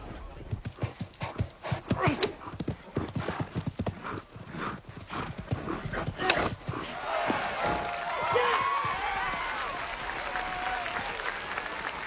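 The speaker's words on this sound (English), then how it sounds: "We're going to need a faster horse." Horse hooves pound in a quick clip-clop rhythm during a polo game in scorching weather, with a whinny and crowd applause rising near the end over a steady outdoor murmur.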